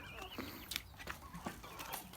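White Leghorn chicks about three months old, young cockerels among them, cluck and chirp in short scattered calls over a steady barnyard hiss, fairly near, with no talk.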